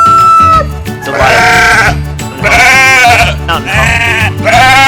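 Sheep bleat loudly and close on a homestead, several overlapping wavering calls following one another in quick succession.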